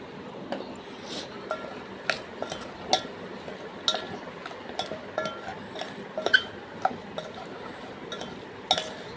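A spoon clinks and scrapes against a bowl while mango pickle is mixed with roasted spice powder and oil, in a run of light, irregular taps over a quiet, soft background.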